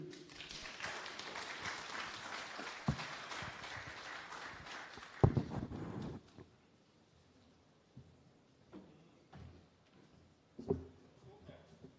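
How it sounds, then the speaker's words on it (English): Audience at an installation ceremony for Justices of the Peace in St James applauds after a musical tribute, a dense burst of clapping that fades out after about six seconds, leaving scattered faint claps and knocks. "Give him a round of applause again, ladies and gentlemen"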